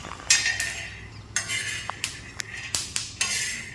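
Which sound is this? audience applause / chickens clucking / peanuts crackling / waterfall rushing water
peanuts crackling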